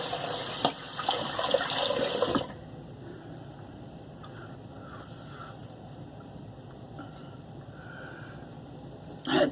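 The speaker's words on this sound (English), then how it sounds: "let me rinse and see where we're at" Tap water runs into a sink and splashes as a face is rinsed after shaving with a Merkur Futur razor, loud for about two seconds, then stops, leaving quiet room noise and a faint splash at the end.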